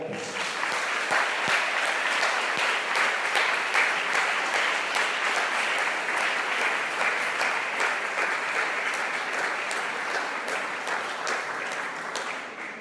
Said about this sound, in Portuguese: vamos aplaudir o Senhor, porque Ele é bom